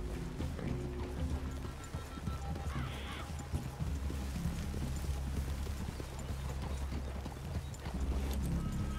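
Horse hooves clip-clop steadily on the ground in the Red Dead Redemption 2 video game, a soft rhythmic trot heard over constant outdoor ambience, with faint speech in the background.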